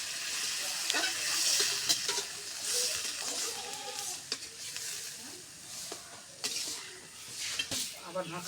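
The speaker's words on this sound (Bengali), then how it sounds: "সিদ্ধ করার জন্য পানি দেব।" Water is poured into a pan of spice-sautéed green plantain and pointed gourd to boil. It brings a soft hiss and sizzle with intermittent stirring and clinks, fairly faint, while a voice talks.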